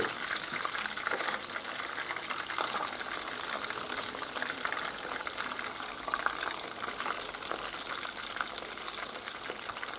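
Breaded flamenquines fry in hot oil with a dense, steady sizzle and bubbling crackle, close and continuous, with no voices.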